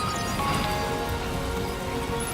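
Rain falls in the video game Death Stranding 2, a steady, dense patter of drops on surfaces that stays loud throughout, with no speech.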